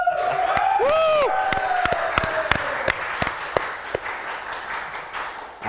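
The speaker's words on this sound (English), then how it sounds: "can we get a round of applause?" A small audience at a LAN tournament for Age of Empires 3 gives scattered, sparse claps under a rising whoop at the start, then the clapping thins to a few isolated, fading claps.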